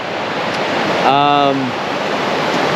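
A river flows at a campsite in the Big Horn Mountains, giving a loud, even rushing wash throughout. A voice briefly speaks over it.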